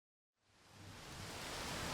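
Rain begins to fall, a broadband hiss rising from silence and building steadily louder over a couple of seconds, with no voices.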